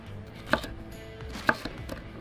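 Two sharp knife chops on a cutting board through smoked jalapeños, spaced about a second apart, close and distinct over a quiet kitchen background.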